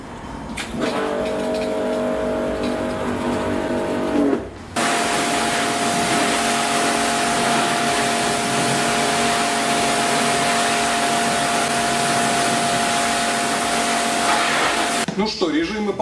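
Karcher K5 Full Control Plus pressure washer running with a steady high motor whine and spray hiss that starts and stops abruptly, loud and close, with brief pauses between runs.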